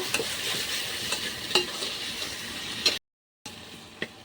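Chilli powder, turmeric and masala are stirred in a frying pan, with a steady low sizzle under repeated scraping strokes of a spoon, close and moderately loud, and a brief silent gap near the end.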